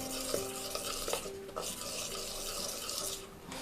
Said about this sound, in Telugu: ఇప్పుడు ఇలా దించుకున్న పాకంలో కొంచెం కొంచెం బియ్య పిండి వేసుకుంటూ కలుపుకోవాలి.